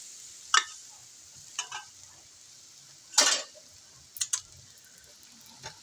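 Homemade beef broccoli sauce hits a hot pan for chow mein, giving a series of short, sharp sizzling hisses and stirring scrapes at irregular intervals over a faint steady background hiss.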